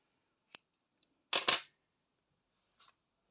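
Scissors snip through white crochet yarn while an amigurumi butterfly is being made: a few short, crisp clicks spread over a quiet few seconds, with a louder double snip in the middle.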